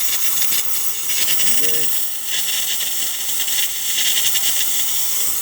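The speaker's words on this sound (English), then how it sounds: "As you can see, steam, perfectly fine," A DeLonghi espresso machine's steam wand, fitted with a new steamer assembly, releases a steady, loud hiss that runs the whole time. Someone speaks briefly over it.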